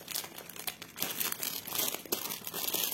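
Crinkling plastic wrap as a cross-stitch fabric package is opened, with a steady run of crackles and rustles up close and no talking.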